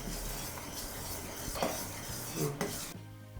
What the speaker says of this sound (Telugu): ఇలా పొంగు వచ్చేంత వరకు కలుపుతూ ఉండాలి.